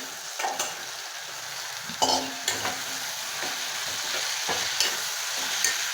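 Pumpkin pieces frying in oil with tomato, a continuous sizzle punctuated by several clear knocks and scrapes as the pan is stirred, with no talking.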